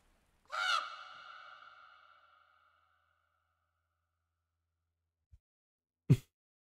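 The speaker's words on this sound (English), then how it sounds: "The crows." A crow in the video game The Last Door gives one loud, harsh caw that trails off in an echo, followed after a silence by a short soft knock and a sharp thud.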